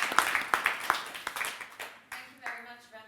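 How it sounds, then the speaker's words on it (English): A workshop audience applauds the panelists with sparse, separate claps that come in uneven bursts, fairly close and a little faint, while someone speaks over them. "Give a warm applause to all the panelists."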